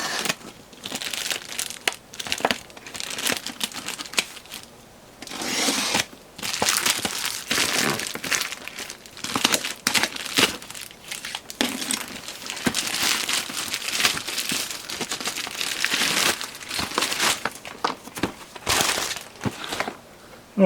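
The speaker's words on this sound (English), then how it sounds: "Now, it's covered in tape. I think my ram knife isn't going to cut this because it struggles with tape." Blade slicing and tearing through heavy packing tape on a battered cardboard shipping box, with continuous crinkling, ripping and crackling bursts close up, no talk.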